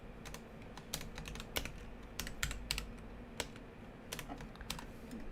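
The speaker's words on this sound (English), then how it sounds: "Let me type this for you." Quick irregular keystrokes on a computer keyboard, close and fairly quiet, in short bursts of clicks over a low room hum with no talking.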